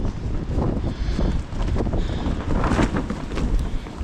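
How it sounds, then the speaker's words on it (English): Winter wind on a north side buffeting a tarp shelter, making a steady loud rushing roar with flapping and rustling throughout, close to the microphone; no voices. "the wind's coming from the north today"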